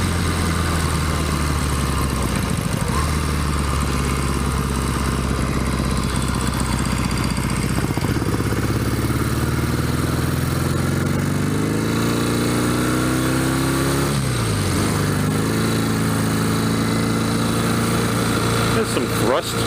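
A 1964 Royal Enfield Interceptor 750 motorcycle on its first ride after a revival, its engine droning loudly and continuously while the pitch climbs and dips as it pulls away.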